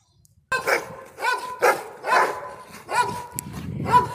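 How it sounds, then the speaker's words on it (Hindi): A dog barks repeatedly at close range, a run of about seven sharp barks in quick, uneven succession. "इसको दूसरा कुत्ता है वो काफ़ी भौंकता है"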